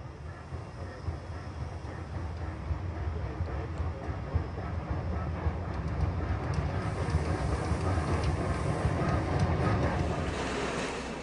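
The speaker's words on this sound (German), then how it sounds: "In Wassertrüdingen wird der Zug auf das Werksgelände von Schwarzkopf Henkel rangiert." A Bayernbahn train is shunted onto the Schwarzkopf Henkel factory site in Wassertrüdingen, giving a steady, broad rumble of rolling wagons and locomotive that builds slightly toward the end, with no talk.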